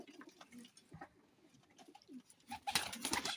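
Soft, low coos of golden flying pigeons repeat at close range, with rustling and a burst of fluttering noise toward the end.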